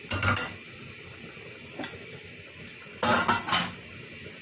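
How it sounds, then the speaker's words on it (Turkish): Food being stirred in a metal pot after hot water is added, two bursts of clattering spoon-against-pot scraping separated by a quieter simmering stretch, no talking. "Şöyle güzel bir karıştırıyorum"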